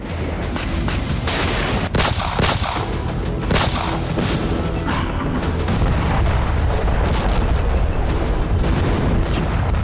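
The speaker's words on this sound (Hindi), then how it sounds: "सूमी में रूस ने फैब 3000 बम से हमला किया।" Russian bombing attack on Sumy with FAB-3000 bombs: a dense, loud, continuous barrage of booms, blasts and crackling rumble, with no pauses.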